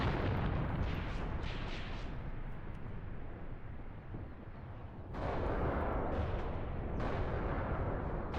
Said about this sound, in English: Artillery is landing behind my tanks.